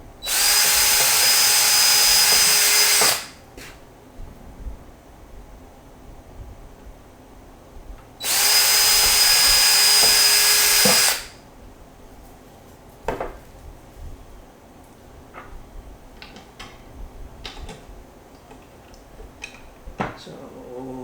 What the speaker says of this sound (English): And for this, I need to get my drill ready again.